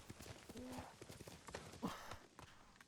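Horse hooves clip-clop steadily across the ground in Ghost of Tsushima, close and fairly loud, with a brief whinny-like tone early on.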